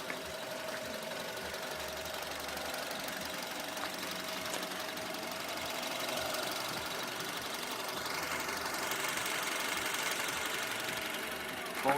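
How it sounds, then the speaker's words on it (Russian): A VW car with a CWVA engine idles with a faint, steady mechanical hum and a thin whistling tone, fairly quiet and even throughout with no talking. "какой-то странный звук работы двигателя"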